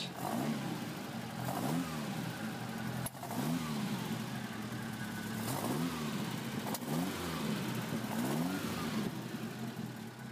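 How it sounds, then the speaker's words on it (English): A Beck 550 car engine runs steadily, with several rising revs that swell and fall back to idle, close and continuous throughout. "So engine is running, revving it up a little bit."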